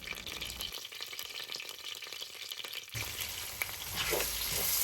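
Onions frying with salt over high heat for Bangladeshi tehari, a loud, continuous sizzle close up, with stirring scrapes that grow busier toward the end.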